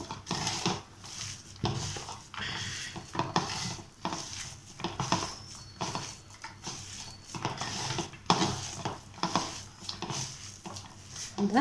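Vegetable stuffing mixed with chaat masala and salt being stirred in a pan, rhythmic scraping and clinks of a spoon against metal repeating throughout, with light sizzling and a voice talking over it.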